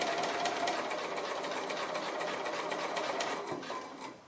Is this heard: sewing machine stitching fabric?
yes